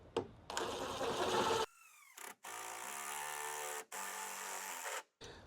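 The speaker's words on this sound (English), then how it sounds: "And we're going to cut that 1-inch hole." An impact driver boring a 1-inch hole through a boat console, heard as a few close bursts of whirring and rattling hammering with short pauses between them.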